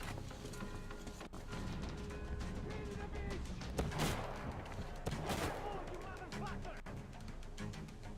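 Enemy gunfire rattles in the post-apocalyptic shooter Metro Exodus, scattered shots and bursts at moderate distance among ongoing game sounds, with two sharper cracks standing out near the middle.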